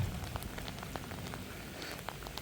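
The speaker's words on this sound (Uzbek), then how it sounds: "bizda yomg'ir" Steady rain falling on a tent, a dense patter of drops with occasional sharper taps, continuous and close, with no talking.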